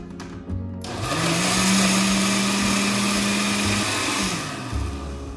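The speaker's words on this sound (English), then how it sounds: "So since I have the blender out" A blender blending peppers whirs loudly at a steady high pitch for several seconds after a brief start-up, then spins down near the end.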